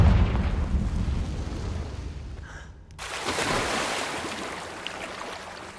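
A Confringo blasting spell detonates in a Harry Potter video game, a loud broadband burst that cuts off briefly before a second strong blast swells and rumbles on alone.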